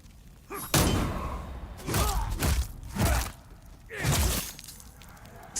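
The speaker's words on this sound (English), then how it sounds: "thump sound effect that you get when you counter someone is an artifact from the original" Heavy thumping impacts from combat counters in the Demon's Souls remake, four loud, separate thuds spaced about a second apart over a low game ambience.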